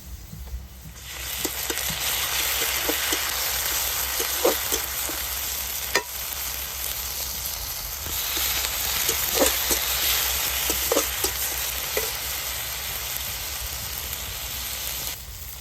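Ginger, garlic, green chili and onion paste sizzles steadily in a pan for a cauliflower dish, a continuous frying hiss broken by scattered soft stirring clicks and scrapes, close and even throughout.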